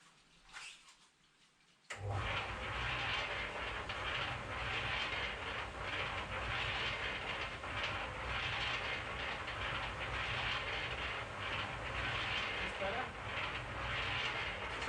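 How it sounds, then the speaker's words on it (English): Small stones and water are shaken inside a Norton Commando 850cc Mk1 fuel tank to clear rust, a sudden start into a loud, continuous rattling, sloshing churn that runs steadily without pause. "Put a mixture of small stones as you saw and water in there, and I'm told that that will clean the rust, clean the inside of the tank"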